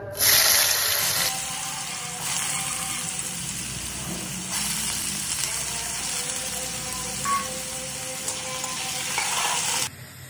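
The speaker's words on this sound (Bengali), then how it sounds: "আলু ভাজা হয়ে গেছে।" Potato pieces frying in oil for street-style chowmein give off a loud, continuous close-up sizzle that holds steady for about ten seconds and then cuts off abruptly.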